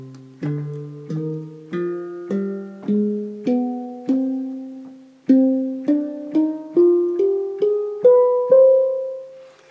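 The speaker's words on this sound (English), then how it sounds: "This is a so-called harmonic minor scale." A handpan plays a harmonic minor scale, single ringing tones struck one after another and stepping upward, close, clear and unaccompanied, with brief decays between notes.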